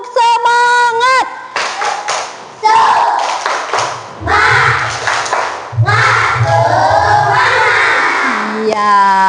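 A classroom group claps in a quick rhythmic pattern while shouting a spirit chant together, the loud clapping broken into repeated bursts with voices calling out between them.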